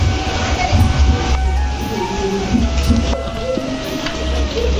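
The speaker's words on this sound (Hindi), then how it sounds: "एकदम जोर से बारिश होने लग गए" Heavy rain pours down in a steady, dense roar that holds evenly for the whole stretch, loud and close, with no one speaking.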